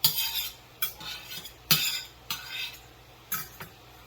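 A spatula scrapes and pushes chicken around a hot pan on the stove, giving several separate metallic scraping strokes with faint sizzling between them, close and fairly loud, with no talking.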